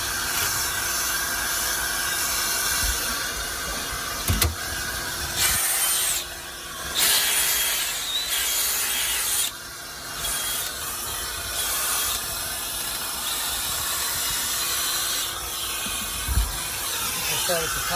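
All-purpose cleaner sprayed from a trigger bottle onto a dirty car seat during detailing, heard as several short hissing bursts scattered across a steady background hum, with brief knocks in between.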